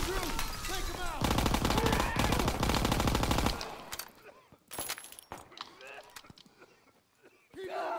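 A PPSh submachine gun rattles off a long, loud, rapid automatic burst in the Call of Duty: WW2 campaign, followed by scattered single shots and footsteps in a quieter stretch, then another burst at the end.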